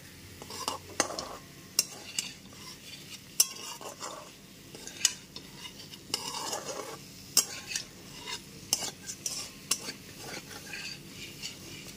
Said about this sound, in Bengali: ওল আর আলুটা খুব ভালো মতো এখানে মিশিয়ে নিচ্ছি